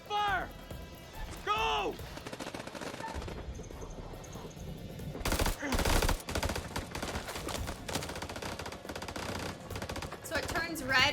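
Gunfire in the video game House of Ashes, as a firefight breaks out along a ridge: repeated shots and bursts crackle through the clip, loudest in a heavy barrage near the middle, with people shouting and talking over it.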